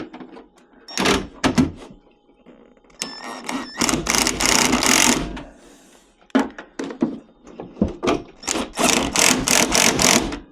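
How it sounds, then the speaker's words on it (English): A power driver fitted with an 11mm socket tightens a bolt on an off-grid solar battery setup, giving several short, loud whirring bursts separated by brief pauses, with rapid pulsing spurts near the end. "I'm gonna grab my driver, 11mm socket."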